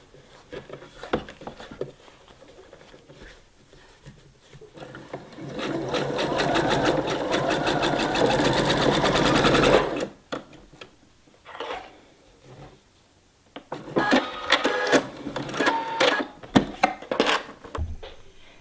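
A sewing machine stitches a zipper into a felt pillow cover, a near, steady whirring run of about five seconds, then shorter bursts and clicks as the stitching and backstitching carry on.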